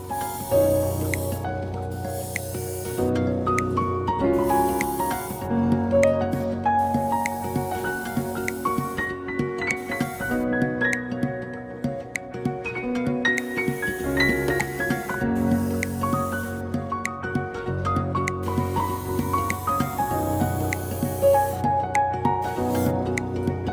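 Continuous hiss of an airbrush spraying transparent yellow paint over white on a Whopper Plopper 90 fishing lure, steady with short pauses, under a loud bed of background music.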